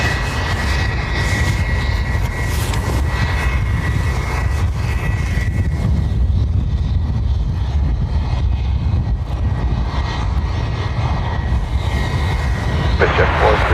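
An Emirates airliner arrives at Dublin Airport, its engines making a steady, loud roar that fills the whole stretch and thins a little toward the end, while voices talk faintly underneath.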